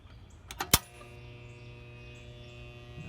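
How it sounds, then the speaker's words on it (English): A pool pump motor hums without starting: a few sharp switch clicks, then a steady, low, even electrical hum that carries on unchanged. "there's that humming sound"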